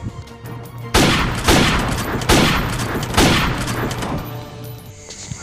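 Gunfire in a video game comes as four heavy, booming volleys about a second apart, loud and close over a steady game soundtrack, with no talking.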